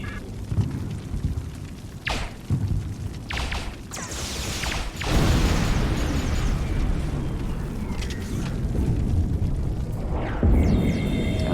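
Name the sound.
explosion destroying force field emitter in Star Trek Online video game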